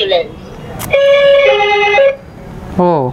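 An ambulance siren played by a children's electronic sound book, a loud, close tone that holds, steps to a different pitch and stops, then starts again briefly; a person speaks around it.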